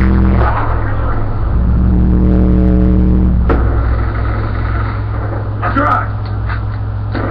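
A truck engine in the Call of Duty Black Ops multiplayer video game, a loud low rumble that swells and revs for several seconds, with a sharp impact about halfway through and excited players talking over it.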